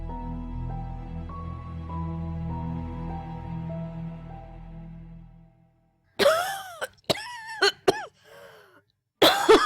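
After a steady humming tone fades out, an older woman coughs several times in quick bursts, then once more at the end, close and loud.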